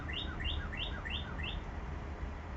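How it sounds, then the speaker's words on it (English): A small bird chirps outdoors in a quick series of about five evenly spaced, high double tweets, clear and moderately close, over a steady background hiss with no talking. "bird says hi."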